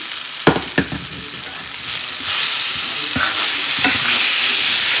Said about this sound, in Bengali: এর মধ্যে দিয়ে দিচ্ছি আলু।